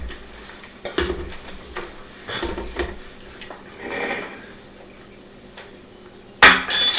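Salsa spooned onto a plate of chips: a few light clinks and scrapes of a utensil against dishware, then a soft wet sloshing, ending in a sharp clatter, all close and fairly quiet with no talk.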